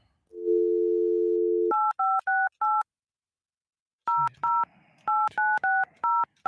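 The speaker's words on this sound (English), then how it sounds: "It's been a while since I dialed this, John." A landline telephone gives a steady dial tone, then a run of crisp touch-tone keypad beeps, a pause, and a second quicker burst of DTMF tones dialing the rest of a number, loud and close with no talk.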